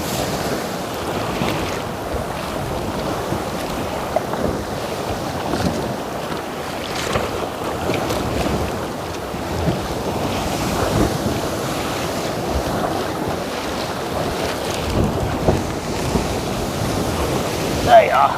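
Ocean surf breaking around a kayak off Bermuda, a loud continuous wash of waves with heavy wind buffeting the microphone, and voices talking faintly underneath.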